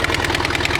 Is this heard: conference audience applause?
no